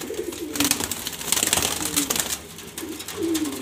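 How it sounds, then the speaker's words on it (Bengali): Grizzle pigeons, a mix of males and females, coo repeatedly in a loft with no voices, their low rolling calls rising and falling over several seconds amid faint wing and cage rustle. "এখানে সব বাছাই করা গ্রিজেল কবুতর নর মাদি"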